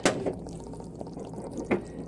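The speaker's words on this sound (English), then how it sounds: "Caramel has reached the 255 degree mark, so you pour in your vanilla" Vanilla poured into hot caramel at 255 degrees while making caramel corn, giving a brief liquid splash and a few small drips and clinks over a low, steady kitchen background.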